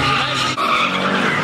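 At a street car meet in Los Angeles, cars do donuts at a gas station and their tires squeal and skid in a loud, continuous screech. Engines roar underneath, with a short dip partway through.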